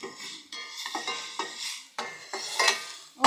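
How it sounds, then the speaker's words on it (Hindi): Coconut chutney with turmeric roasting in a pan, heard as repeated clinks and scrapes of a spoon stirring against the metal every half second or so, with faint sizzle beneath, close and fairly loud, no voices. "थोड़ी देर इसको हम भून लेते हैं।"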